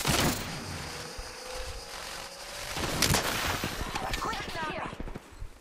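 Gunfire in a video game shootout, a loud sustained burst of rapid shots with a heavy report partway through, layered over game noise and background rumble, with voices talking over it.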